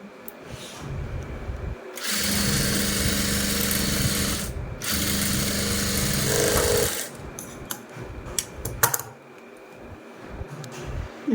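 Sewing machine stitching a lined blouse in two loud, sustained runs of a few seconds each, split by a brief pause, with quiet handling sounds and light clicks before and after.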